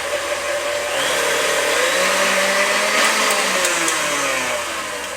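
An electric mixer whips egg whites with cream of tartar toward soft peaks for chocolate mousse, a steady whirring motor hum that rises and falls in pitch as the whisk spins, with no talk.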